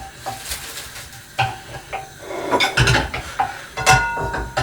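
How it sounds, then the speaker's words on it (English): Aubergine, basil and pork chili paste stir-frying in a pan, with repeated clattering scrapes and knocks of a utensil against the pan over a light sizzle, loud and close. "This is a very quick stir fry."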